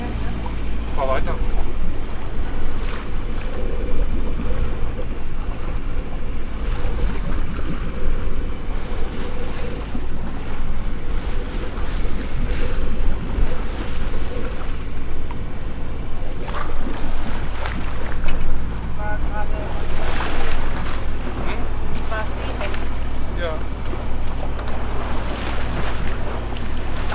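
A sailboat motors at sea off Mallorca while suffering engine problems, with a constant low engine rumble blended with wind buffeting the microphone and waves washing past. Occasional voices come through faintly.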